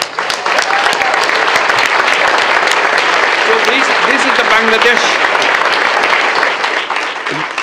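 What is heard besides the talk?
audience applause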